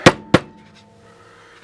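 Three sharp metallic whacks of a hammer on metal, two close together then one after a pause, each with a short ringing decay.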